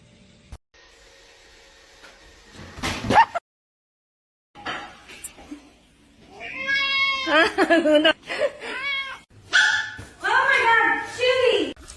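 A cat meows in a short, funny pet moment, with a few rising, tonal cries rounding out the mix, set among loud voices and other commotion from people talking nearby.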